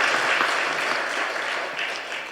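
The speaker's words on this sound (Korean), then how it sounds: "우리 목사님에게 감사와 또 우리 격려의 박수 한번 더" A church congregation applauds during a Sunday worship service, a dense, steady wash of clapping that starts loud and slowly tapers off over a couple of seconds.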